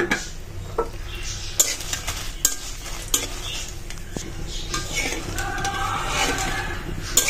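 Dried chillies frying in oil in a pan, a soft sizzle under repeated scraping and clinking of a spatula against metal, close and continuous with no talking.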